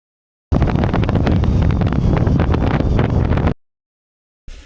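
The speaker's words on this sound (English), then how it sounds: "So it's fairly gusty at the moment" Strong gusts from Storm Amy batter a microphone at a wild camp where an X-Dome 1+ tent is pitched, a loud, close, continuous roar for about three seconds before cutting out, then returning briefly.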